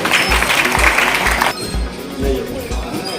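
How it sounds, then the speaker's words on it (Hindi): Applause from an audience at a school prize-giving ceremony, where pupils receive pens as gifts. The clapping is loud and dense for about a second and a half, then drops to a thinner patter with a voice speaking over it. "जोरदार ताली बजाइए आप लोग।"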